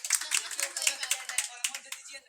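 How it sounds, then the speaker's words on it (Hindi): Students at a school farewell ceremony clap for a classmate, a short burst of fairly quick, light hand claps from a small group, close and moderately loud, with brief voices underneath. "ताली मार दीजिए पायल के लिए"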